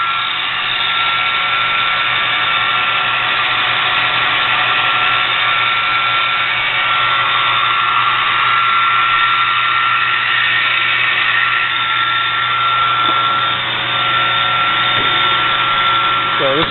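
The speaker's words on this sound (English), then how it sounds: "Here we have a Clausen Harrison M300 lathe. I have it powered up for you, so that it does operate." A Clausing Harrison M300 13-inch metal lathe runs under power with its spindle turning, giving a steady, loud mechanical whine and hum that holds constant throughout, close up.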